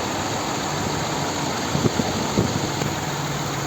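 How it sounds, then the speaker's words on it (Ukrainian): A 2016 Subaru Outback 2.5 petrol engine, converted to run on gas, runs steadily at idle, a low constant hum with a few brief knocks around the middle. "Робота двигуна"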